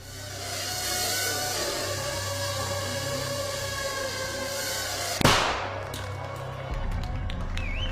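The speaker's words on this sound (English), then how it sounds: "That little bang is enough to penetrate the skull and destroy the contents" A 3-gram shaped explosive charge goes off with a single sharp, close bang partway through, cutting through a steady hum and leaving a brief decaying tail.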